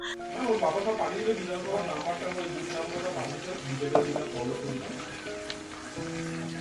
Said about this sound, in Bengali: ওই সব কিছুকে একটুখানি ভালো করে নেড়ে চেড়ে নিচ্ছি